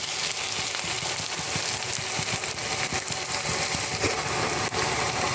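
Sliced onion with a pinch of salt sizzles in a pan for a Kerala-style capsicum stir-fry. A steady, fairly close frying hiss runs unbroken throughout, with faint crackles and no voices.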